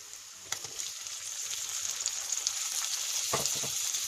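Tomato frying in a chicken curry base, a bright steady hiss of sizzling oil, close by, with a few crackles and stirring knocks, no voices.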